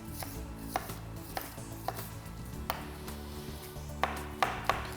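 A knife slices vegetables on a cutting board in an evenly spaced series of crisp taps, with a quicker cluster of cuts near the end, close and moderately loud.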